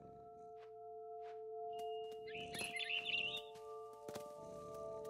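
Bird chirps in the video game What Remains of Edith Finch, a few short, bright tweets set against quiet ambient game tones and a faint background hum.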